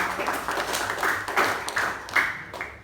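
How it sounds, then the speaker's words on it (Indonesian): A classroom of schoolchildren claps for the winning groups, a scattered, uneven run of hand claps with a few louder accents, steady and moderately close for nearly three seconds. "kasih dulu tepuk tangannya"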